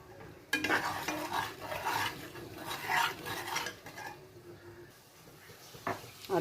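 Masala and curry leaves dropped into hot oil in a cooker pan for Chettinad chicken masala, with a bright spitting sizzle and a spoon stirring and scraping the metal in uneven bursts, close and fairly loud.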